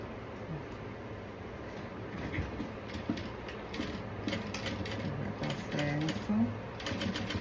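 Sewing machine stitching a seam on a folded shoulder strap: a close mechanical whirring with quick ticking needle bursts coming in short runs, over a low room hum, with no words spoken.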